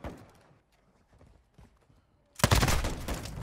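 The Sakin MG38 machine gun fires in Modern Warfare 2. A loud, sustained burst of rapid automatic fire breaks in after quieter game sounds and dominates the end.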